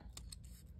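Scissors cutting closely around a stamped paper image, a few soft quick snips, faint and close.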